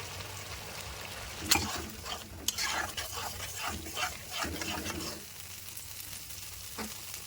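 Tomato paste going into spices frying in oil with ginger paste, a soft continuous sizzle with scattered scraping stirs and a few clinks of a utensil on the pan, close but fairly quiet.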